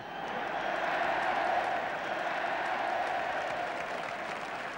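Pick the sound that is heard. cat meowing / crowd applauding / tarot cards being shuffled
crowd applauding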